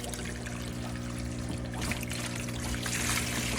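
Water from a 50-gallon fish tank drains out through an opened valve into a container, making a steady close pouring and trickling rush that builds slightly as it continues.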